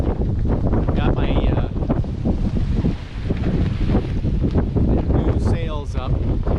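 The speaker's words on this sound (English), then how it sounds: "we're going along pretty good, about 6 knots, pretty good wind." Steady wind buffets the microphone aboard a sailboat under sail at about six knots on the North Landing River in North Carolina, with water rushing alongside and someone talking over the roar.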